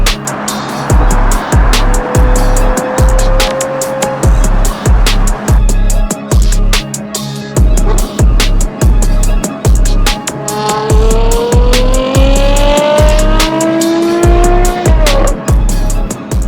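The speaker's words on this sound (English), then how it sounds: "Feeling of a V12 with a Novitec exhaust is beyond anything I've ever heard before." A Ferrari Purosangue with a V12 engine and Novitec exhaust is driven hard, its engine note climbing through rising pitches between shifts over a repeating rhythmic thumping, loud and close, with tyre squeal in places.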